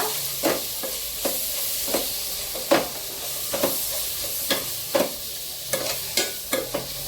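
Mutton masala and turmeric being stirred in a hot frying pan for a mushroom curry, a steady sizzle broken by repeated sharp scrapes of the spoon at irregular intervals, close and clear with no talking.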